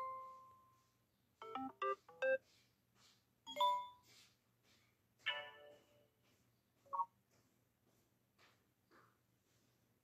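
A phone ringtone plays in short, quiet synthetic bursts as tones are previewed one after another in a phone's ringtone settings, separated by pauses and heard alone.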